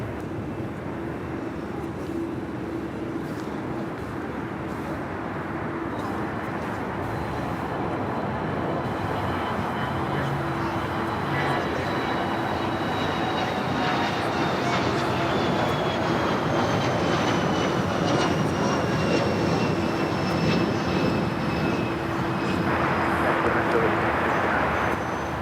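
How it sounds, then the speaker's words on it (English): A Challenger 605 business jet of Aerolíneas Ejecutivas taking off at Los Angeles airport, its engine roar and rising whine building steadily over nearly half a minute, with radio talk faintly underneath. "That was a Challenger 605 taking off."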